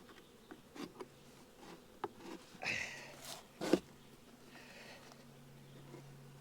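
Bees buzz faintly around a hive while being moved in, with soft intermittent drones and a few sharp knocks and handling noises, a low steady hum running underneath.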